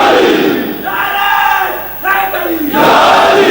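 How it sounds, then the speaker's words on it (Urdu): Large religious gathering chanting the Nara-e-Haidri slogan in loud, sustained unison, voices rising together in a roaring call and answer, close and dense with crowd noise throughout. "نعرے حیدری بل کر کے نعرہ لاؤ"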